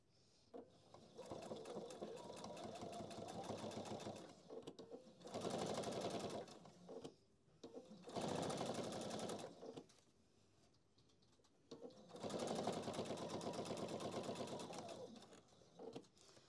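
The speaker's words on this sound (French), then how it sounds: "Et je couds l'autre côté." Sewing machine stitching fabric for a handbag organizer, a fast buzzing run of stitches in three long bursts separated by short pauses, steady and close.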